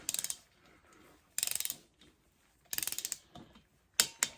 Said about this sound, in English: Torque wrench is absolutely necessary.